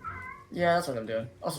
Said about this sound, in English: sorry for the cat